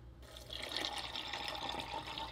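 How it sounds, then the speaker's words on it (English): Two cups of water pour into a bowl of dry dog food, a soft continuous splashing fill that starts after a brief pause and runs quietly to the end. "we will be adding 2 cups of water"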